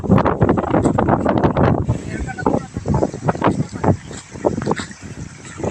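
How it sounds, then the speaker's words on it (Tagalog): Strong gusting wind roars against the microphone, with voices talking and shouting intermittently underneath. "Kaso malakas yung hangin"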